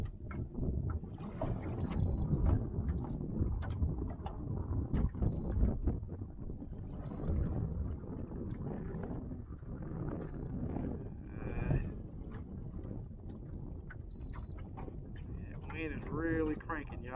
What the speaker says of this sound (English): Wind is really cranking, y'all.